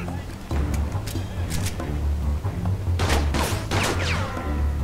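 Gunfire in the crime video game Mafia 2, several sharp bursts of shots cracking out in quick clusters over a low background rumble, fairly loud and close.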